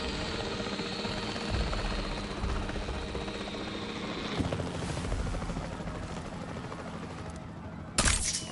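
A capture team helicopter in the video game Jurassic World Evolution 3 drones with steady rotor noise throughout, joined by a few sharp cracks and a burst near the end.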